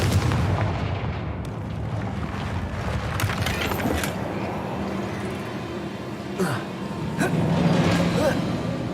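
Fiery Confringo blasting spells burst in Hogwarts Legacy, several booming impacts with crackling debris over a dense, rumbling game soundscape, the loudest near the middle and late in the stretch, mixed with faint voice.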